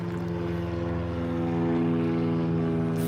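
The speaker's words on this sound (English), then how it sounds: "he's gonna have to do a go around because the Cirrus is still in the runway, so he has to go around." Light propeller aircraft at Elstree Aerodrome applying full power for a go-around, a steady loud droning engine and propeller hum with strong low harmonics, rising slightly in intensity midway.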